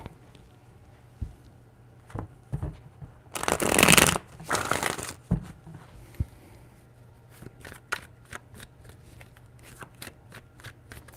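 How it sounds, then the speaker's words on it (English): Tarot cards are shuffled by hand in a burst of dense riffling, then handled with a run of short, crisp taps and flicks close by, with no talk. "Three shuffles."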